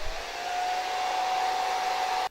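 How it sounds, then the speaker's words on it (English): A hairdryer on its cool setting, held on the lowest speed for zombie makeup work, blows with a steady, loud whine and rushing air for about two seconds, then cuts off abruptly. "use the hairdryer again. Remember, on the frost button, hold it in, first setting."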